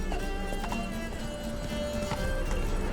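Roach, Geralt's horse in The Witcher 3, gallops in a steady rapid clip-clop of hooves against continuous game ambience and music.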